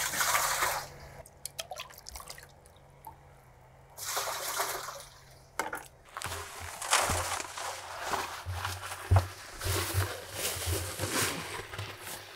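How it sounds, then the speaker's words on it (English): Water poured into a bag mix of concrete for large DIY patio pavers, intermittent splashing and trickling with pauses and some handling noise, no speech. "supposed to put 3 quarts of water in here"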